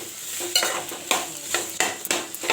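Mustard seeds crackle and sizzle in hot oil for tempering a guava chutney, with a spoon stirring and scraping the pan in repeated bursts; close and moderately loud, no voices.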